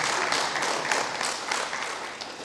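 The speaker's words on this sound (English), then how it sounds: "Let's give Dennis a round of applause." A tech forum crowd at CaribNOG in Grenada gives a speaker a short round of applause, steady crowded clapping at moderate level that tapers slightly toward the end.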